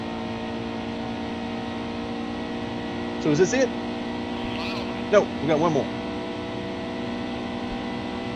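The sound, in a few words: car engine sound in NASCAR Heat 2 video game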